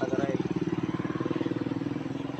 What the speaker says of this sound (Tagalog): Naingay daw yung tambutso ko.